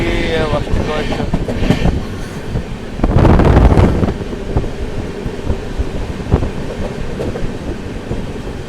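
The 22638 West Coast Express rolls through the Palakkad Gap with a loud, steady rumble and rhythmic clatter of wheels on rail joints, surging louder for a moment midway, with wind noise buffeting close by.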